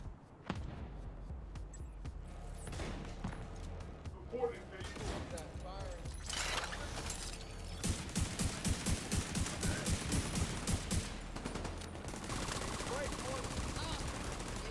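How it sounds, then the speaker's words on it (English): A battle in The Division 2 shooter game, with sharp distant bangs followed by a sustained burst of rapid machine-gun fire and scattered shots, loud and close, with voices in the mix. "There are explosives detonating everywhere."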